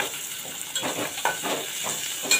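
Finely chopped large onion dropped into hot oil in a kitchen pan, giving a steady sizzling hiss with a few brief louder spits and stirring scrapes, close and continuous with no talk.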